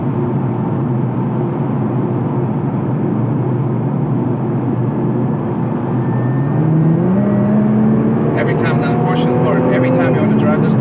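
A 2017 Nissan GT-R pulls hard under acceleration, its engine note climbing steadily in pitch as the revs rise, loud and close from inside the cabin over constant road rumble, with a voice heard briefly near the end.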